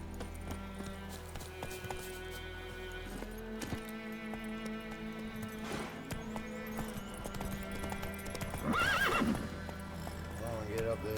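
Horse hooves clip-clop under background music in The Witcher 3, with a neigh near the end, as a voice urges the horse on.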